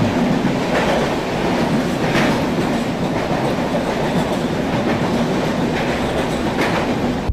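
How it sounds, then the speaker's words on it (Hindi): Mandovi Express passenger train rolling along the Konkan Railway during monsoon, a steady close rumble with rhythmic wheel clatter heard from inside the coach for several seconds, no voices. "अभी हमारी ट्रेन पहुंचने वाली है चिपलून"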